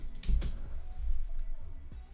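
Computer keyboard typing while editing CSS in WordPress: a short run of soft, close key clicks with a few louder taps, no voices.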